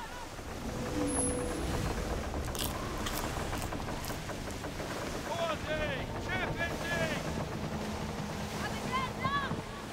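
Sailing ship cruising the open sea at 18 knots in the video game Skull and Bones, with steady wind and waves washing along the hull, continuous and fairly loud, and occasional bird-like cries overhead.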